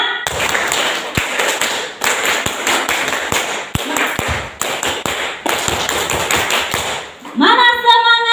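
An audience of teachers in a school hall in Kupang claps in a loud, rhythmic 'tepuk semangat' routine, bursts of sharp hand claps in a patterned beat over about seven seconds, with a brief higher tonal sound at the end.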